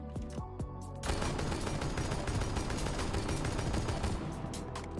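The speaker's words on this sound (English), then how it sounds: "Once this is done, I will shoot 3 patterns at the wall." Rapid bursts of semi-automatic gunfire in a video game, shooting three recoil patterns at a wall; a few separate shots open, then continuous, dense, loud firing runs to the end.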